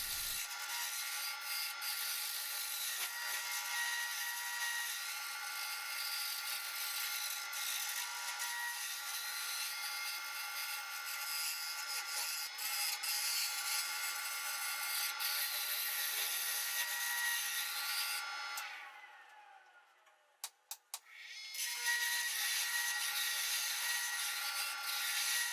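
Freehand shaping of a wooden egg from a glued ultra-thin laminate disc gives a steady, close rasping and rubbing that runs almost without pause, with a brief break and a few sharp knocks near the end before the rubbing resumes.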